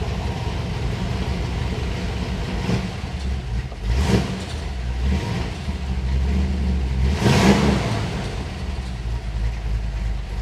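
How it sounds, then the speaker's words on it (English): A Chevy 350 V8 idles around 700 RPM with a lumpy cam lope, a deep rumbling drone broken by periodic swells, close and steady without talk. "I love the idle on this one. It's right at about 700 RPM where you expect it to be on a Chevy 350."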